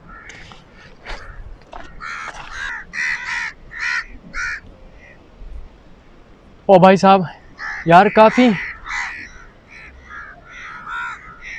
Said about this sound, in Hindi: कौवे मेरे सामने और मेरे इर्द गिर्द घूम रहे हैं